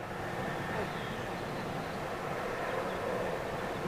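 KLM Boeing 737 airliner in new livery, a steady broadband jet roar holding at an even level throughout with no breaks.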